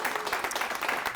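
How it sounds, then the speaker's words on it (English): Scattered applause from a small audience at a corporate training session, a brief burst of clapping that sounds faint and somewhat distant. "Give her a round of applause."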